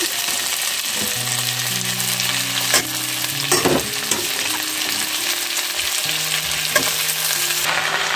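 Green onion sizzles steadily in hot oil in a pan while being stirred for a pahadi vegetable dish, with scraping utensil strokes and soft clinks over the continuous frying hiss.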